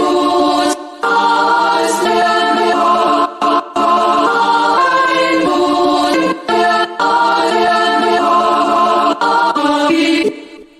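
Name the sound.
main chopped sample in a music track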